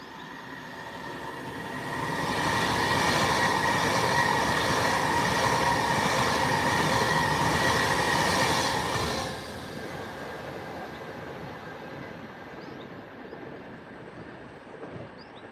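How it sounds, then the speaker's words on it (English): A Pendolino express train running past on the slow track, a loud sustained rushing roar with rumbling wheels that holds for about seven seconds, then drops away abruptly to a quieter fading rumble. "there's a Pendolino coming now, and it's on the slow track"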